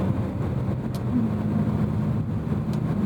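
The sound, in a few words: 2010 BMW M3 E90 naturally aspirated V8 engine driving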